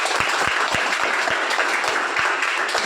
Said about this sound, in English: Please let us clap for Khushi.